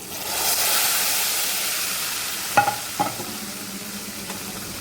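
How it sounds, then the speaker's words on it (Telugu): Hot oil sizzles as tempering spices go in, including dried red chillies, asafoetida and curry leaves, a steady close frying hiss with a few sharp crackles and stirring knocks partway through, and no talking. "చూడండి ఫ్రెండ్స్ తాలింపు వేసుకుంటున్నాము"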